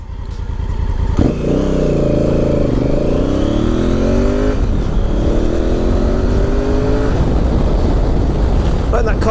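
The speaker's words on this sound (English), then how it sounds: "that car tried to burn me up at the lights" A car accelerates hard away from traffic lights, its engine loud and close as the revs climb steadily over about eight seconds, with wind rush underneath.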